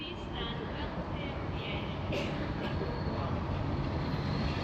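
A steady rumble of an intercity train bound for London King's Cross rolling past Newark North Gate station, broad and continuous with faint higher squeals, at moderate distance.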